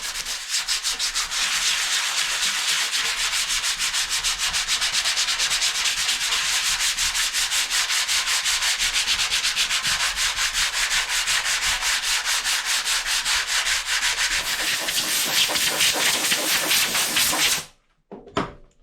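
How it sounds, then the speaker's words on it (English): Sandpaper of 80 grit rubbing around a dent on a 2014 Nissan Rogue body panel, steady rapid back-and-forth scuffing that runs loud and continuous before stopping abruptly near the end. "take some 80 grit sandpaper and just sand around the dent, like big area around the dent"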